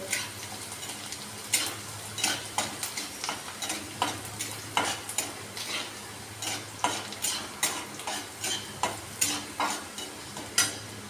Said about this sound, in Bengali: পেঁয়াজটা আমি ভাজা ভাজা করব।